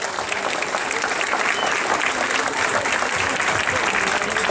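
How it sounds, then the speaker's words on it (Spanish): Steady, dense applause from a crowd at a party meeting inaugurating a UNACE headquarters in the capital, loud and continuous with no break, voices faintly mixed into the roar of clapping. "¡Fuerte ese aplauso!"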